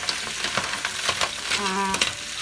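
A spoon stirs clam soup (tinolang halaan) in a pot, giving soft clinks and scraping against the shells over a continuous bubbling simmer.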